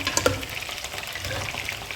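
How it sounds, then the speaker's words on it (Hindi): Mixed vegetables fry in an open pressure cooker, sizzling and crackling steadily at close range, with a few sharp clicks from stirring early on. "पहले अच्छे से इन तमाम वेजिटेबल्स को हमने इसमें भूनना है"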